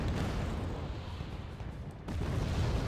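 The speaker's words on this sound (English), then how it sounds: "even the mortars getting some good shots in it too" Mortar and artillery fire in the war strategy game Wargame: Red Dragon, heard as a dense, continuous rumble of distant booms with a heavier burst near the end, no talking.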